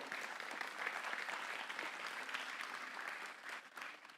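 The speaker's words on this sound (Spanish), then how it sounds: "¿Por qué no le damos un aplauso al Señor esta mañana?" A church congregation applauds during a morning service, a dense, even wash of many hands clapping together at moderate volume, sustained throughout and easing slightly near the end.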